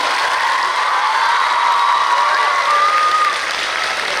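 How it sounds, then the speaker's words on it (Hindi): Audience applause at a school Children's Day celebration welcoming award nominees, a steady dense wash of clapping sustained throughout, with a faint voice or tone running beneath it. "कृपया करके तालियों से उनका स्वागत करिए।"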